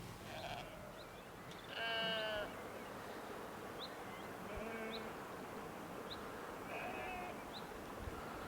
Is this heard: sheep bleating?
yes